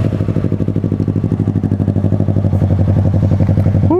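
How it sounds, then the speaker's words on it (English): A motorcycle engine idles close and loud with a steady, fast lumpy pulse that holds through the whole stretch, with no talk. "I want to hear how my bike sounds and looks."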